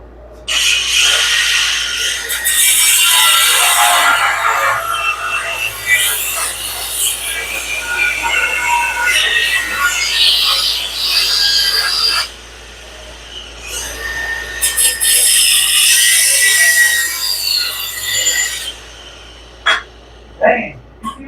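A saw blade cuts through aluminum while a steering setup is being changed, a loud, harsh, sustained grinding whine in two long passes, with brief pauses and a few short knocks after.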